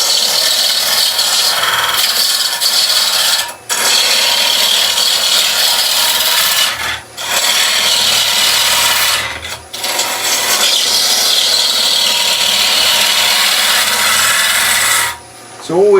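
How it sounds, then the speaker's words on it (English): A wood lathe, turned up to a higher speed, spins a raised bowl blank as a gouge cuts away waste, giving a loud, continuous rasping scrape with a few brief pauses between passes and no talking. "I'm going to turn the lathe speed up. We're going to take away some of that waste."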